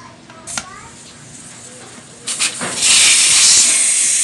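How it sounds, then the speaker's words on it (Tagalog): Air hisses steadily out of a car tire being deflated, growing louder and continuing to the end, after a couple of brief squeaky bursts. "Tanggalin natin ang hangin."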